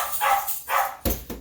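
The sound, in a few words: dogs barking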